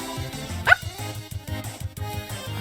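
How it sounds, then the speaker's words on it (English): Lesser Dog from the video game Undertale barks excitedly in a quick series of short, bright yips over a bouncy chiptune-style game backing. "He's barking excitedly."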